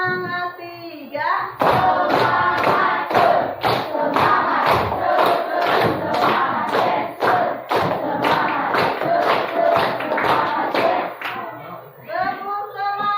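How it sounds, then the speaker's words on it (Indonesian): An elementary classroom of fifth and sixth graders performs a rhythmic spirit-clapping chant, with sharp unison claps in a patterned beat and children's voices chanting loudly together. A teacher's voice is heard briefly before and after. "Kita tepuk semangat dulu deh ya, biar lebih semangat nih presentasinya."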